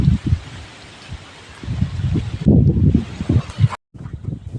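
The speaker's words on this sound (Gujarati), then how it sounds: "પવન પણ બહુ આવે છે" Strong wind gusting outdoors during light rain, a steady rushing, buffeting roar with irregular louder bursts close to the microphone and a brief dropout near the end.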